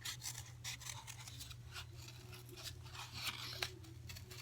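Scissors cutting two circles out of folded paper, a run of quick rasping snips and crisp scraping cuts close by, over a low steady hum.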